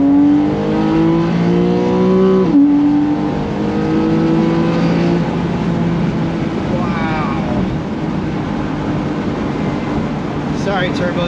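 A 2013 Porsche 911 Carrera 4S Cabriolet with PDK and Sport Chrono, in Sport Plus on a highway, accelerates hard from inside, its engine climbing through gears with a quick shift before settling into a steady drone.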